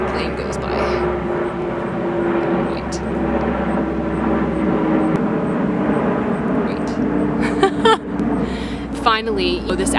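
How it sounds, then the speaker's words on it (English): A fixed-wing airplane passes overhead with a loud, continuous engine drone that holds for the full ten seconds, with faint voices and small knocks near the end. "Till that plane goes by."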